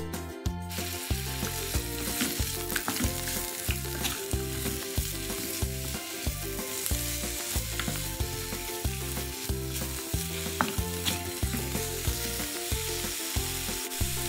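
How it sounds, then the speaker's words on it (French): Bitter melon slices stir-frying in oil in a wok over high heat, a steady loud sizzle with rhythmic scraping and stirring strokes throughout, close up and without speech. "On y dépose des lamelles de concombre amer et on fait revenir le tout."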